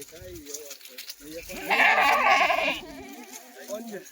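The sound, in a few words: Kathiyawadi goats bleating on a farm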